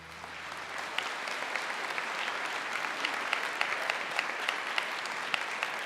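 Audience applause at the 2018 Spark of Hope Single Parent Scholarship Fund awards, honoring recipients Gene and Susan Anderson: steady, dense clapping from a large crowd, sustained at even loudness throughout.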